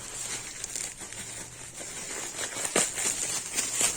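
Plastic bag wrapping a children's puzzle floor mat being handled and unpacked, bursts of crinkling and rustling plastic close to the mic, growing louder toward the end, with no speech.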